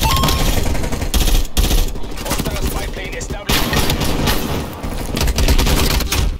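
Rapid M16 gunfire from the Call of Duty Cold War video game, dense loud bursts of automatic shots with brief pauses, sounding close and continuous throughout.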